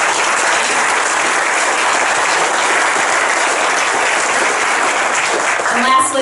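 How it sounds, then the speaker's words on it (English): Sustained applause from a large crowd at a school graduation, dense and steady clapping throughout, loud and close. "let's have a huge round of applause for our Grand Master of Ceremonies, Simon Ma"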